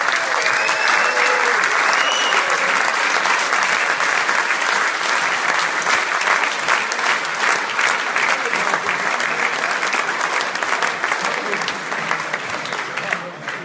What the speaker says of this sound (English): a quick round of applause to Keith Southern, who's done a lot of the w